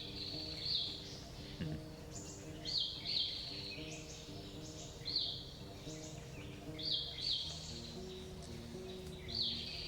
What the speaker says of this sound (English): Yellow birds fly off the roof, screeching with frustration.